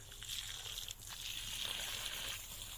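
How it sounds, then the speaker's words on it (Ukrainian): Water poured from above onto the soil of a raised strawberry garden bed gives a faint, steady splashing trickle that fades briefly near the middle and then carries on. "Ось так залила водою дуже гарно, можу ще додати."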